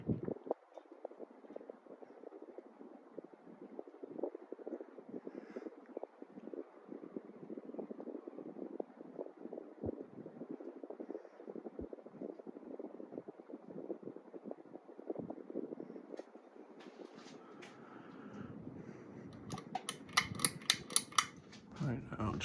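A white Hampton Bay 52-inch Quick Connect ceiling fan runs indoors with a soft, steady whooshing hum and faint fluttering texture, continuous and quiet, with some clicking noises near the end.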